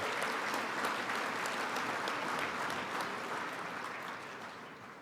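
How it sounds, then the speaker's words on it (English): A banquet crowd at a college football awards dinner applauds the 2025 MEAC Players of the Year, a dense, steady wash of clapping that fills the room and slowly tapers off near the end. "another round of applause for the 2025 MEAC Players of the Year"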